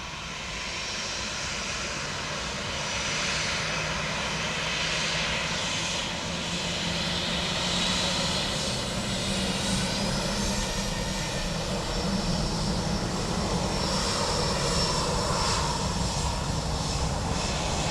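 An aircraft, Gemstone 93 Delta, lands on runway 28 left at Dublin Airport, its engine roar steady and loud throughout, a broad continuous rumble with a faint high whine.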